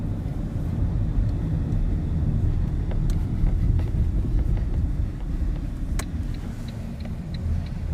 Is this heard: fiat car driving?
yes